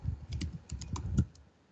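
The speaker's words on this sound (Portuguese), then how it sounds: "eu estou digitando com vocês hoje" Fingers type on a computer keyboard in a quick, uneven run of soft clicks and taps, close and fairly quiet, with no voice over them.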